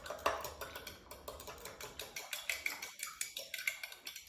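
A spoon stirs a cocktail mixture in a glass, clinking in a quick steady rhythm of light metallic taps, close and fairly quiet with no talk.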